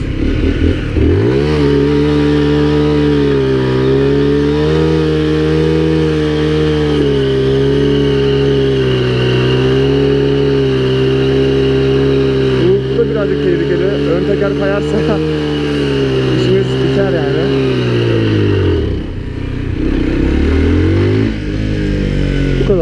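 A stock Mondial Drift 125 L motorcycle revs hard during a wheelie. The engine is close and loud throughout, and its pitch climbs, holds and drops back over a long sustained roar.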